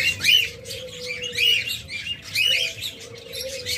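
Cockatiels and lovebirds call in a caged bird shop, sharp repeated chirps and squawks in bursts about a second apart, close by, over a steady background hum.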